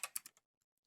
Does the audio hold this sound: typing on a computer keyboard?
yes